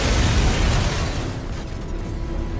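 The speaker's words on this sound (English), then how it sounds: "Ace Chemicals is still about to explode" The Ace Chemicals plant exploding in Batman: Arkham Knight. A loud, broad blast roar hits at once, then thins into a rumbling tail that fades into softer debris and crackle.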